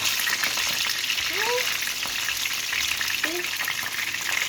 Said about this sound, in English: Put it on its back side to sit so you can fry on that side.